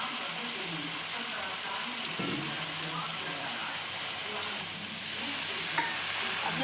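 A steady loud sizzle comes from a frying pan of cumin, cinnamon and garam masala with a little water added for a fish recipe. It is stirred throughout, and a few soft scrapes of the spoon sound over the frying.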